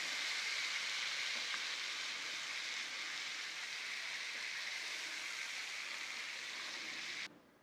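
Fish fries in a covered frying pan, giving a constant, even hiss of sizzling oil at low level that cuts off abruptly near the end, with no talking.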